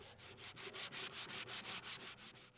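Steady back-and-forth sanding on carved wood, a rhythmic scratchy rasp of about a dozen strokes, close up and fairly soft, with no voices.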